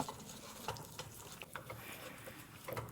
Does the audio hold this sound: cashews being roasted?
yes